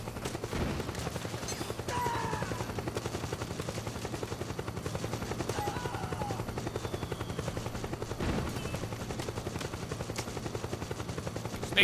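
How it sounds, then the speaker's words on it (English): A helicopter's rotor chops steadily in the Metal Gear Solid 4 video game, a fairly faint, rhythmic thudding that runs throughout, with scattered bursts of gunfire breaking through in the background. "Is that just Aaron shooting, or does the helicopter actually see Snake?"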